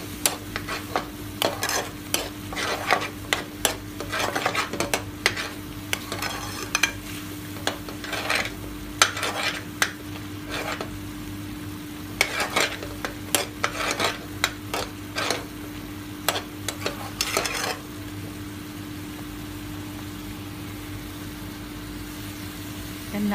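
A coconut powder and sugar mixture is stirred in a pan with repeated close scraping strokes over a faint sizzle, then the stirring stops and only a low steady hum remains.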